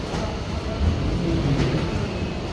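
A local train in Israel rumbles steadily, a low, dense, continuous roar close by that stays at an even loudness for the whole stretch, with no voices.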